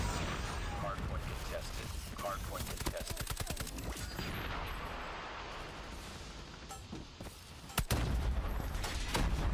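Grenade blast and rapid gunfire from a Call of Duty Mobile esports match at the 2025 World Championship LATAM finals, dense bursts of shots under continuous caster talk, with a sharp loud impact near the end.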